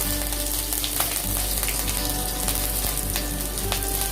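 Steady, loud sizzling of green chillies frying in hot oil for a tempering, a continuous crackling hiss with small pops throughout.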